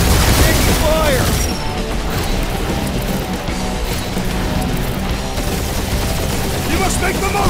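Dense bursts of gunfire and booms fill a battle in the Guardians of the Galaxy game, loud and continuous, with voices shouting over the shooting.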